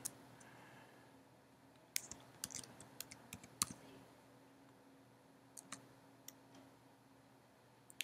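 Keys tapped on a computer keyboard while typing in a book title, sparse clusters of quiet clicks with gaps between, close and soft in a quiet room.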